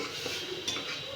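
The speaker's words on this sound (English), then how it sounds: "I'll lower the flame and stir it thoroughly." Spiced corn and pea pulao stirred in a pan on a low flame, a soft continuous scraping and rustle of the spoon through the rice with faint sizzle and a light clink at the end.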